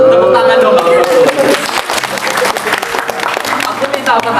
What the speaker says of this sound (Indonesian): Tepuk tangan dong kalau bagus.